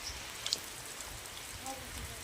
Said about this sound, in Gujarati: અત્યારે વરસાદ સારો પડી ગયો છે